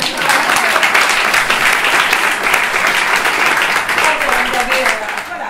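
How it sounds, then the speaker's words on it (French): A group applauds Nadine during a training session, loud, close and continuous clapping from many hands, steady across the whole stretch with a slight fade at the very end. "Je propose qu'on l'applaudisse."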